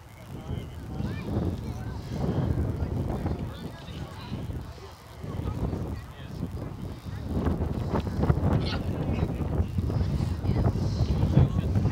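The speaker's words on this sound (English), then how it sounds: "the wind is still blowing" Wind gusting across the microphone at an outdoor high school softball game, a steady low rumbling buffet that swells and eases throughout, with background voices and some goose-like honks mixed in.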